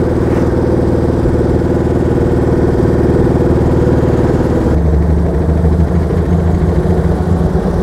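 The engine of a 1934 Talbot London AV105 vintage car drones steadily and loud from inside the cabin, its pitch dropping abruptly partway through as the driver downshifts into third, then settling into a lower, throatier hum.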